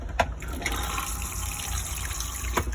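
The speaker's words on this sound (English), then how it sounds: "So this is how it works. Flush." A toilet flushes, water gushing and refilling steadily at moderate level throughout, with no talking.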